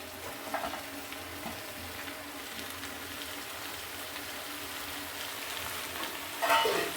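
Green peas sautéing in a kadai for kachori filling, a soft steady sizzle with faint stirring scrapes throughout and a brief louder clatter near the end.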